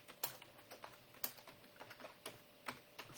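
Soft clicking of computer keyboard keys in irregular bursts of single taps, faint and close in a quiet room, with no speech.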